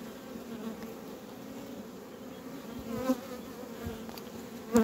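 Honeybees humming steadily around an opened hive while a nucleus colony is moved into a full hive, a close, even drone with a few louder passes near the microphone.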